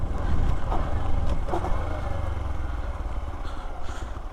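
A 2022 Hero Xpulse 200 4V motorcycle ridden at speed near its top end, engine droning steadily under heavy wind rush, loud and continuous throughout.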